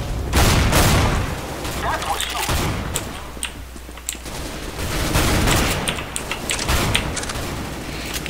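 Gunfire in CS:GO, including Mag 7 shotgun blasts, comes as dense overlapping booming shots and volleys throughout the clip, loud and continuous with little pause.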